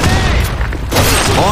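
Grenade blast in a desert military shooter game, a loud sustained roar of explosion and gunfire filling the whole clip as a shouted voice calls out over it.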